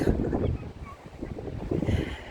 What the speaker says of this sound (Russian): Ой, какой ветер сильный.